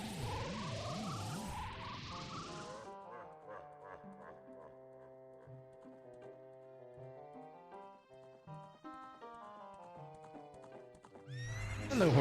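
A horse neighs and whinnies in The Legend of Zelda: Ocarina of Time, followed by a light game melody and a brief burst of hoofbeats and a whinny at the end.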